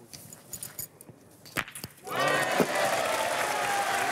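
A crowd in the Fréjus arena breaks into sustained applause at a pétanque match, following a few scattered thuds and knocks.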